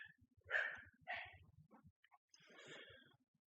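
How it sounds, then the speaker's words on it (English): Dogs bark outdoors at night, faint and distant, in three or four rough bursts over a quiet background with light ticking noises. "I'm going to have to pause because of the dogs."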